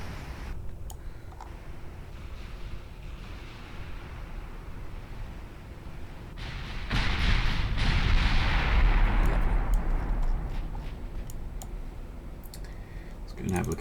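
Naval artillery fire from warship guns in the Ultimate Admiral Dreadnoughts naval battle game, a steady rumbling barrage that swells louder midway with deep booms and crackling, while someone talks over it.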